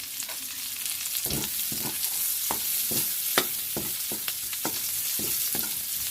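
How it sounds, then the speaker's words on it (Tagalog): Pork frying in a pan with onion and garlic added for a sautéed bottle gourd dish, a steady close sizzle broken by repeated scraping stirs about every half second, with no talking. "dito natin ilalagay ang sibuyas at ang bawang. Ayan at halo haluin natin."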